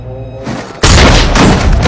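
Single loud gunshot, a sharp booming crack that cuts in abruptly after a quieter lead-in and leaves a dense, lingering roar.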